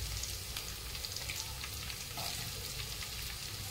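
Capsicum, carrots and other vegetables fry in a kadai over high flame, giving a dense, even sizzle with light crackles, steady and close for a few seconds.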